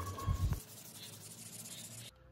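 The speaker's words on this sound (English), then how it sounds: "we are sanding it down with 1000 grit sandpaper" 1000-grit sandpaper rubs across a painted Honda Unicorn motorcycle body panel, starting with a short burst of heavy, low scrubbing strokes and settling into a softer, even abrasive rasp that stops abruptly.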